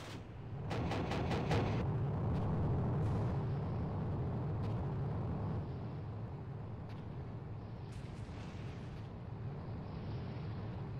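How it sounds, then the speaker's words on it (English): Artillery shells landing in the Armored Brigade wargame: a dense, sustained roar of distant blasts and rumbling impacts with a few sharper cracks, steady and loud throughout, no talk. "Just look at all the artillery landing here."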